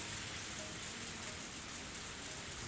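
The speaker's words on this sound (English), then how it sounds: "I didn't think it would rain so hard" Heavy rain in the video game Higurashi: When They Cry, a dense, steady downpour hissing and pattering on surfaces, loud and unbroken with no other sounds.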